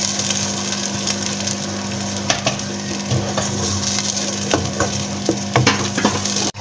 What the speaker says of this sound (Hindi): अब इसमें मैं ये प्याज पीसी हुई प्याज ऐड करूँगी और 1 मिनट के लिए मैं इसको भूनूंगी अच्छे से